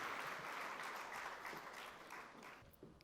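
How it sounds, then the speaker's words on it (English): An audience at a business forum gives a keynote speaker and panelists a round of applause that is faint and distant, a steady wash of clapping that slowly tapers off. "Can we give a round of applause, ladies and gentlemen, for our keynote speaker and our panelists."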